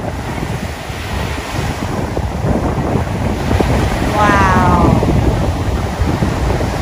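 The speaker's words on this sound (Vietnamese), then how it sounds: "đúng là sóng cứ thế cứ thế xô bờ cát dài" Sea waves wash onto a long sandy beach in a steady, loud surf, buffeted by wind noise on the microphone, with a voice briefly exclaiming over it.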